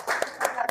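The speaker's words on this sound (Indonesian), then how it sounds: "Oke, kasih tepuk tangan dulu." A classroom gives a short burst of applause, a few close claps mixed with light talk.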